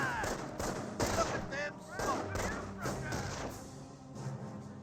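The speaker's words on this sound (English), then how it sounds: "And immediately guns them down" Gunfire from US troops in a Company of Heroes 1 match: rapid, repeated shots in quick bursts, fairly faint and a bit distant, running throughout under a commentator's steady talk.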